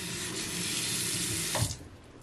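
Tap water runs steadily from a faucet while body scrub is rinsed off, a broad continuous hiss that stops abruptly near the end with a small splash.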